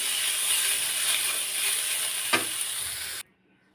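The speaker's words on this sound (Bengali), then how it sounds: "শাক এরকম ঝরঝরে করে ভাজি করে নিতে হবে।" Data greens stir-fry in a hot pan with a loud, steady hiss and crackle. A single scrape of the spatula comes near the end before the sound cuts off abruptly to silence.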